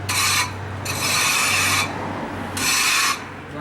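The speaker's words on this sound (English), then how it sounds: "So what you do is just take like a floor scraper" A floor scraper pushed across freshly brushed concrete to knock off the burrs, giving three loud, harsh scraping strokes separated by short pauses, close up and alone.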